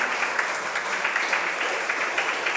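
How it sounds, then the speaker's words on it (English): Steady applause from an audience at a Super Mario Bros. speedrunning tournament, a dense wash of many hands clapping continuously at moderate volume. "Can we please get a round of applause for all the runners"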